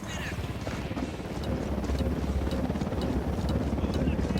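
Helicopter rotor chop in the video game Ghost Recon Wildlands, a steady loud pulsing drone running throughout under other game noise.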